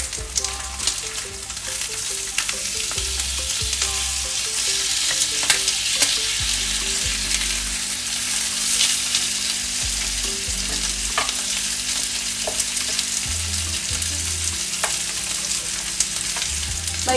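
A homemade steak fries with butter in a hot pan, giving a loud, continuous close sizzle with occasional clinks and scrapes, and no one speaking.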